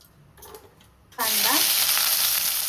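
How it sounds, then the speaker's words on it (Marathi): Cumin and mustard seeds hit hot oil after a near-silent start, bursting into a loud, steady, close sizzle that holds to the end. "सो तेल टाकायचंय, जिरं मोहरी,"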